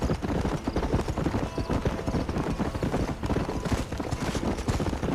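Horse hooves clip-clop steadily at a trot in the Red Dead Redemption video game, a continuous close rhythmic clatter with a faint hint of a whinny and no talk over it.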